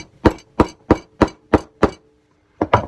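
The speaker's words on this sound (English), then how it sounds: "hammer that in" Hammer driving a part into a homemade catapult: six sharp, evenly spaced blows, then a pause and two more quick strikes, close and loud with no talking.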